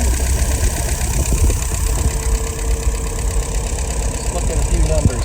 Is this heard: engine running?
yes